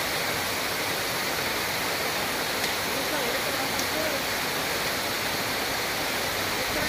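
Baabijhari waterfall at Kerameri pours down in a steady, dense roar of rushing water that holds an even level throughout, close and loud.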